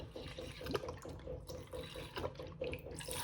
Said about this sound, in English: So I'm going to start off with 100 grams of my rose water glycerin because I just love the color.